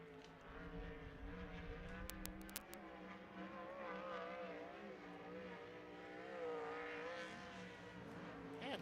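A 360 dirt track race car runs a timed lap at Skagit Speedway during the Dirt Cup, its engine droning steadily with rising and falling revs, moderately distant and continuous throughout.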